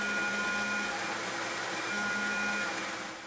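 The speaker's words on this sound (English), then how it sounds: "I'll grind off the scale on my grinder" A bench grinder strips forge scale off a small forged Damascus steel blank for a Japanese sword guard, giving a steady, close, loud whine with a faint low hum throughout and no talk.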